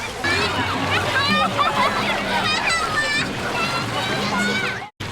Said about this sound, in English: Children lie on floating mats and slide directly into the stream.